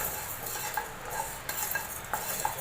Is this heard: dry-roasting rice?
yes